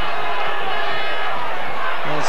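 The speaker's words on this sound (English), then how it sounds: "And now the crowd respond here at Cusick Park." A large crowd roars and cheers steadily at a hurling match in Cusack Park, loud and continuous throughout, with a commentator's voice over it.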